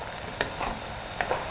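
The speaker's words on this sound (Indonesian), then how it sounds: "Bumbunya kita tumis dulu sampai harum" Spice paste stir-fried in a pan for a village-style sliced beef dish, a steady close sizzle with two pairs of sharp spatula scrapes against the pan.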